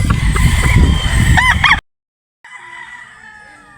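A Boston Roundhead gamefowl rooster crows loudly and close by, a full cock-a-doodle-doo followed by a brief silence and then fainter crowing in the background.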